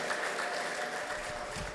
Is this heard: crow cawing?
no